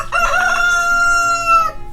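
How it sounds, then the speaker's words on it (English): A single loud rooster crow rings out close by on a homestead, a sustained nasal cock-a-doodle lasting nearly two seconds. "We are right next to the rooster."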